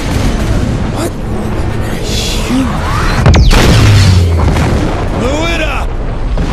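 A deep explosion booms out in Saints Row 4 gameplay about midway through, rumbling for a moment over busy game effects and voices.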